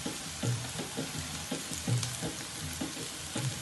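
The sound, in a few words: onions and green chili frying in a pan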